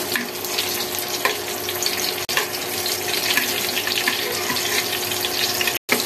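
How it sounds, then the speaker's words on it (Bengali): Eggplant slices frying in hot oil, a loud continuous crackling sizzle close by, steady throughout with brief clatters as the lid is lifted and pieces are turned. "ঢাকনা খুলে বেগুনগুলো উল্টিয়ে দিচ্ছি।"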